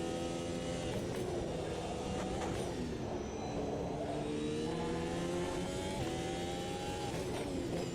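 A 2022 Formula 1 race car engine in the Automobilista 2 racing game screams steadily at high revs, with pitch rising and dropping through gear shifts, loud and continuous with no talk.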